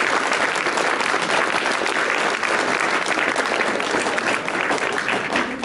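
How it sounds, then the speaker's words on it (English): Sustained, dense applause from a live audience honoring a team, loud and steady throughout with no break, close and filling the room. "go ahead and give them a round of applause too"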